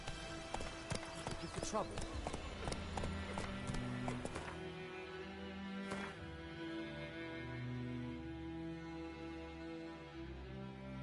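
Roach, Geralt's horse in The Witcher video game, clip-clops along in a steady trot near at hand, hoofbeats dense and regular early on and then softening, while someone speaks briefly over the hooves.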